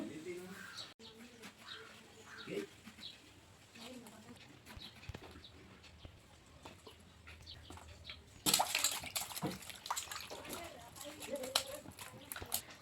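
Chopped eggplant is swished and rinsed in salted water with splashing and clattering, alternating with a person talking; birds chirp faintly in the background.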